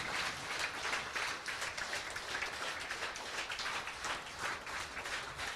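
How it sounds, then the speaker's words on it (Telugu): A group clapping hands loudly with arms raised overhead, a dense, steady patter of many hands that runs without a break and sounds fairly close. "గట్టిగా చప్పట్లు కొట్టండి ఒకసారి పైకి లేపి"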